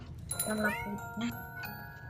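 A cat in the video game The Baby in Yellow gives a couple of short, clear meows up close, with a voice speaking around them.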